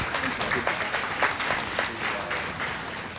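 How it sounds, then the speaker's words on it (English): Audience at an awards ceremony clapping, a dense sustained round of applause from a moderately distant crowd that tapers slightly toward the end. "A round of applause for Brad Haller."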